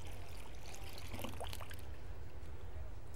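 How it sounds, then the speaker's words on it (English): Hot water poured gently from a canning jar tipped with a jar lifter while pickling kosher dills, a soft continuous trickle and splash over steady low background noise. "When you use your jar lifter, you're going to lift up and pour gently to get all that hot water out of there."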